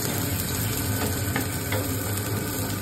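Garlic and onion sizzle and fry in a pan, likely in mustard oil, a dense constant crackle with occasional stirring scrapes, close and steady throughout.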